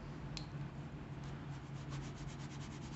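Wax colored pencils from a Star Joy Gold set rubbed back and forth across paper to blend layers of color, a soft, steady scratchy rubbing close up with faint periodic strokes and no talking.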